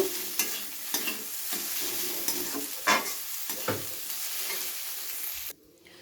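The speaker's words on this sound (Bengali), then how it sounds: "আদাটাকেও পেঁয়াজের সাথে একটু ভাজা ভাজা করে নেব।" Onion and a little chopped ginger frying in a pan for a Bengali rohu fish curry, sizzling loudly and continuously with repeated scraping stirs, then cutting off abruptly near the end.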